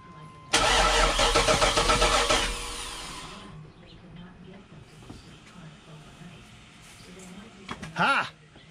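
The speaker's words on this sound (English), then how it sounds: "It cranks off the key, so we've got rotation." An LS-swapped OBS Chevy Suburban engine cranks off the key in a loud rhythmic starter burst lasting a couple of seconds, then falls quiet, followed by a short cheer from a person.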